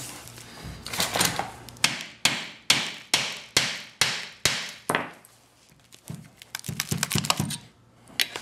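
A series of sharp metallic hammer strikes on a leaf spring metal sleeve being removed, about eight evenly spaced blows, then a quicker irregular flurry of lighter taps, close and loud.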